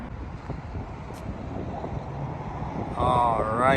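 Steady low rumbling wind buffeting a microphone throughout, with a faint whistling tone creeping in near the end.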